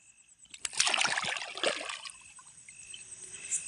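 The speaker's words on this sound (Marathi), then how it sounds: "हे टर्टल आता आपण तलावामध्ये पाण्यामध्ये सोडतो आहे" A turtle slips from hand into pond water, making a short, close splash and trickle that fades into quiet lapping.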